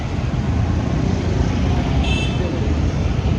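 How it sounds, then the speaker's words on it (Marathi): Steady, loud road traffic roar with passing cars and trucks, a brief horn toot midway, on a busy street during the Diwali season. "काय ट्रॅफिक नुसतं ट्रॅफिक."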